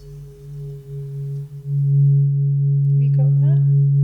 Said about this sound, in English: there are different harmonics within the Himalayan bowls